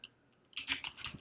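Close, moderately loud computer keyboard typing, a quick burst of several keystrokes entering a Linux terminal command, with near silence before the keys start.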